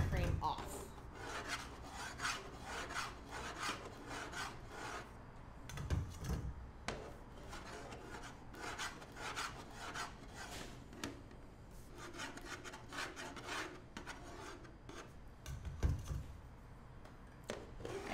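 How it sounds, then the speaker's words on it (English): A tool scrapes excess buttercream from a square cake during cold carving, giving soft, repeated rasping strokes in irregular bursts, quiet and close, with occasional light knocks and no talking. "You just go in and you're just shaving that excess buttercream off."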